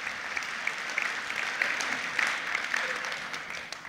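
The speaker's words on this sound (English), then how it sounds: "just clap internally, clap loud" A conference audience claps continuously for several seconds, a steady, moderately distant patter of many hands filling the room, without any voices on top.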